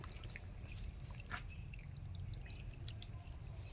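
A steady stream of spring water pours into a collecting container in a wooded area, with faint drips and a low background rumble throughout.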